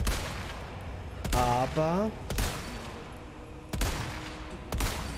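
Rifle shots in Resident Evil 4 Remake ring out as several sharp, loud single cracks spaced a second or more apart, each with a short reverberant tail, while someone talks in between.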